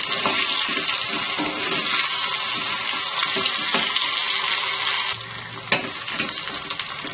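Drumstick (moringa) pieces sautéing in hot oil with softened onions, a steady dense sizzle running throughout with faint stirring clicks, slightly quieter toward the end.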